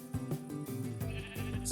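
A sheep in the video game Minecraft gives a short wavering bleat, close and clear, repeated in quick pulses.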